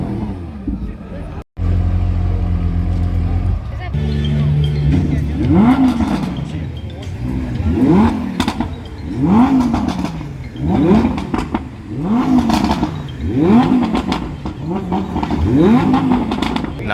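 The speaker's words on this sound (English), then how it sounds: "Ventador's revving here." A Lamborghini Aventador engine revs repeatedly at a supercar show in Durban, loud and close, with rhythmic rising and falling throttle blips over a crowd murmur.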